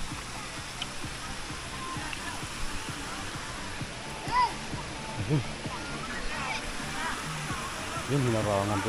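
Water pours steadily into a river pool below Talon Martin falls in San Jose, Batangas, a constant rushing wash with faint splashes. People talk nearby under the flow.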